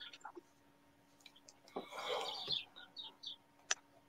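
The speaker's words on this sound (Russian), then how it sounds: "Алло, у кого там птички поют?" Small birds chirp and tweet through someone's open microphone during an online webinar, short bright calls scattered over a few seconds alongside faint breathing and clicks.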